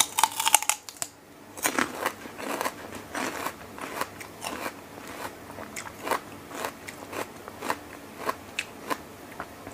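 Loud, close crunchy bites into fresh vegetables in a salmon and seafood khanom jeen salad with egg and meatballs, repeating in a steady rhythm of crisp snaps with no talking.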